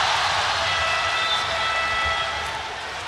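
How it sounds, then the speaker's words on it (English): Home crowd roaring at a FIBA Basketball World Cup game, a dense continuous wash of arena crowd noise, loud and sustained, slowly easing off toward the end, with no clear talk on top. "Listen to this home crowd."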